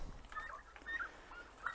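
Turkeys on a Turkish poultry farm with chickens and geese give several short, faint gobbling calls in bursts, with quiet background noise between them.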